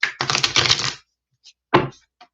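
Tarot cards shuffled close up in two bursts of rapid riffling clicks, one long and one short, with a few faint taps between them and no talking.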